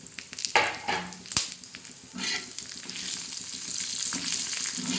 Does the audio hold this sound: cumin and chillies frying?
yes